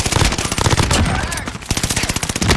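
Rapid automatic gunfire in a shooter video game, loud and close, hammering in tight repeated bursts with a brief lull midway before the firing resumes.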